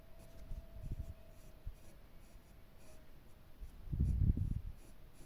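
An HB pencil drags across paper while sketching a Chinese literati-style mountain landscape, giving quiet, close scratchy strokes in two short clusters separated by a pause, with no voices.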